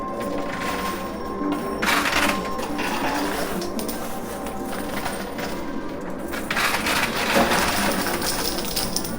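Quarters clatter and drop continuously inside a high-risk casino coin pusher machine, a dense metallic jingle with bursts of heavier cascades, loud and close.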